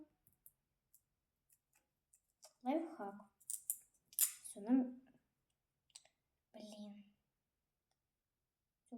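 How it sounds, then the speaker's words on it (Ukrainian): Scissors make a few quick snipping clicks, with people talking close by between and over the cuts. "Дивіться, як ножницями воно легко пішло"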